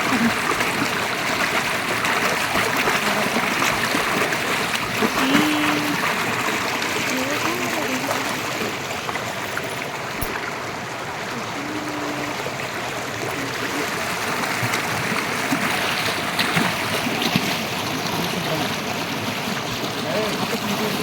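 Water pours from a waterfall and runs along a stream in a constant close rush, with occasional splashes and people talking over the flow.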